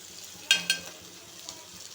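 Bangda mackerel fish frying in oil with turmeric, salt and masala, a soft steady sizzle broken by two sharp spatters near the start and a fainter pop later, close and fairly quiet.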